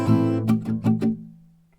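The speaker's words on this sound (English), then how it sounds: "or like this with muting" Acoustic guitar chords strummed with palm-muted strings give a few short, choked strokes in quick rhythm, close and clear, before the sound dies away quickly.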